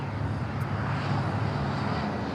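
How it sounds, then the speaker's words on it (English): Jet airliner bound for Shanghai rolling down runway 25 right at LAX, giving a steady broad engine roar at moderate distance with no talk. "Flight to Shanghai, now rolling down to 25 right."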